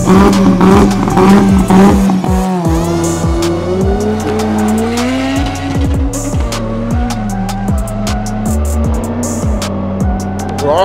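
A roughly 700-horsepower four-wheel-drive drag racing car at a drag event opening revs hard and loud close by, its engine note rising and falling repeatedly over a sustained growl, with tire squeal and skidding.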